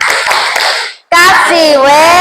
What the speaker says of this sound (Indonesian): Kita kasih tepuk wow,